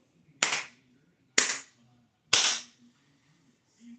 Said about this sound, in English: When I clap my hand 3 times, this spell is complete and sealed.